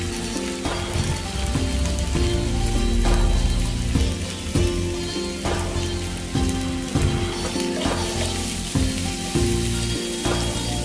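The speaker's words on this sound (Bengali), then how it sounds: "তো পেঁয়াজটা এখানে ভাজতে দিয়ে দিলাম" Chopped onion fries in hot oil for potato chop, a loud dense crackling sizzle that runs continuously with bursts of spattering, close and alone without any voices.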